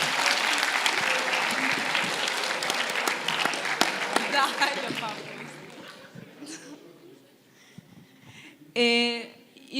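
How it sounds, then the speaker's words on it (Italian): An audience at a conference applauds a volunteer, with dense clapping that fades over several seconds, followed by a few sniffs and a brief voice at the end. "Facciamo un applauso anche a lei intanto"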